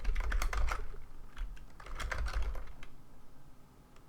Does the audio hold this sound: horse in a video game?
no